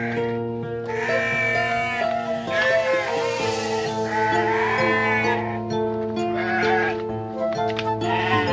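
Goats bleating in a village goat pen after rain, several wavering cries from different animals repeating close by over a steady background hum.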